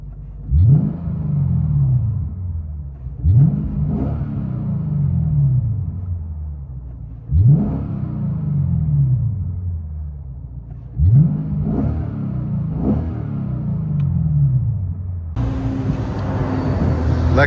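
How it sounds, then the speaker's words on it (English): Repeated revs from a 2015 Lexus RC F 5.0L V8 with Borla ProXS mufflers and mid-resonator delete, heard from inside the cabin: four loud throttle blips that each swell and fall away, then a hissy, steadier stretch at the end. "Lexus RCF, mid resonator leads, Borla ProXS, mufflers in the rear"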